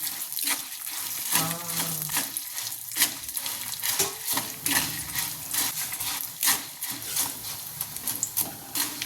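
Red chillies and tamarind roast in a pan, a dense, loud crackle with constant scraping and rattling from steady stirring throughout.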